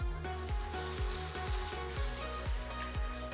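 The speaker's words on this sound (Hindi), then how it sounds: "इसे लगभग 1 मिनट तक भूनेंगे।" Chopped garlic and a diced medium onion sauté in melted butter in a pan, a steady close sizzle with a regular pulsing rhythm of stirring, no voices.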